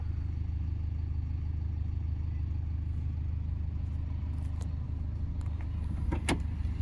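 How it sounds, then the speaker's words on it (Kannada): A Toyota Etios Liva VXD 1300 cc diesel car engine idles with a steady low rumble close by, and a few faint clicks and rattles sound near the end. "ಗಾಡಿ ಸೌಂಡು ನಿಮ್ಗೆ ಗೊತ್ತಾಗುತ್ತೆ ನೋಡಿ"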